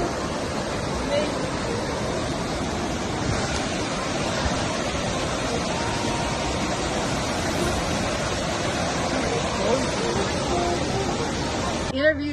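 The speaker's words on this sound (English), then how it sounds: "never seen a waterfall" A waterfall on the Cache Creek trail near Jackson, Wyoming, in Grand Teton country, gives a steady broadband rush of falling water that stays loud and even throughout, with voices in the background.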